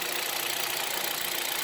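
Hyundai Solaris 1.6 petrol engine running on 5W40 oil with a knocking fault, a steady, fairly loud idle drone with a dense mechanical clatter throughout, alone without voices.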